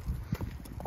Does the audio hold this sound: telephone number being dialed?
no